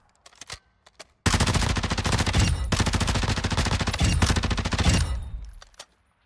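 Automatic gunfire from the video game DMZ: a few isolated shots, then a long rapid burst of about four seconds, loud and close, trailing into a short echoing tail, with no speech.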